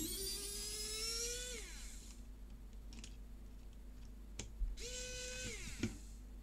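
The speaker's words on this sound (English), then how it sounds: "That's unscrewing." Small motorised screwdriver whines in two bursts as it backs a screw out of a PS5 DualSense controller during a triangle-button repair, with a pitch that drops as each run winds down and a few faint clicks between.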